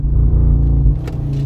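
An Audi RS3 in launch control gives a loud, deep engine roar as it accelerates hard, heard from inside the car, brief and dominant with no talking.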